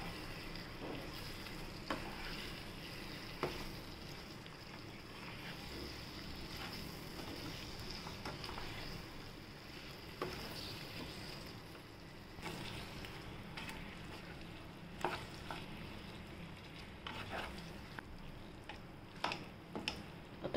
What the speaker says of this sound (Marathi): त्या छान परतून घेऊया।